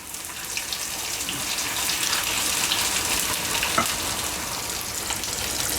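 Potato and tuna fritters frying in very hot oil, a steady, dense sizzle and crackle that runs close and loud without a break, with no voices.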